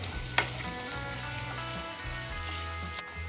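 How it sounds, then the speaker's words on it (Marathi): Chopped onion frying in oil until golden, a soft continuous sizzle with a low background hum and one sharp clink early on, heard alone without speech. "चॉप केलेला कांदा ऍड करून घेऊया आता इथे आपल्याला कांदा छान गोल्डन कलर येईपर्यंत परतून घ्यायचा आहे"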